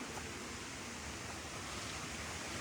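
Steady broadband rush of a waterfall close by in a forest, a continuous dense roar with no pauses and no talk over it.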